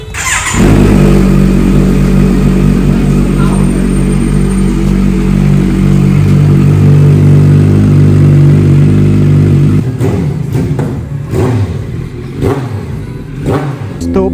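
A Kawasaki Z900 motorcycle with its stock SC1R exhaust idles loud and close with a deep, steady rumble, then settles and gives a few short revs toward the end.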